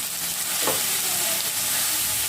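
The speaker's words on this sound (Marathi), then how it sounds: "ही तेलात आता आपल्याला छान परतवून घ्यायची आहे" Chopped spring onion greens sautéing in hot oil for crispy kanda pat vadi, a steady close sizzle with one brief stir partway through and no talking.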